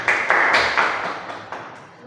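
A class of vocational high school students in a group counselling session claps in unison, a handful of sharp rhythmic claps in a quick patterned beat, loud and close in the room before fading out.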